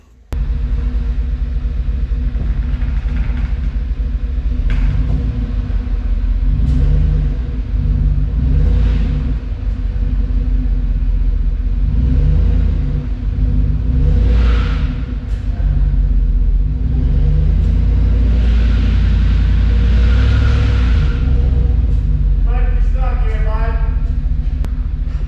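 Heavy diesel rumble from a 2004 Kenworth W900L truck with a C-15 CAT engine pulling away, a loud, steady low drone with rising revs, close by, with occasional voices over it.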